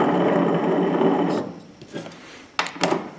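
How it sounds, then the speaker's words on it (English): A zero-turn mower deck idler pulley spinning, giving a steady rattling, grinding whir for about a second and a half, then a quieter stretch broken by a few short clanks and knocks. "this pulley makes a little noise"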